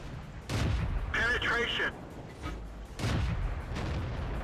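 Tank cannon shots from a Ram II Tier V medium in World of Tanks, two loud booming blasts about two and a half seconds apart, with game engine rumble and a short voice talking between them.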